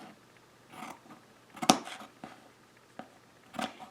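Scissors trim fabric during slow hand-stitching. A few quiet, separate snips come close up, with one sharper cut near the middle and short pauses between them.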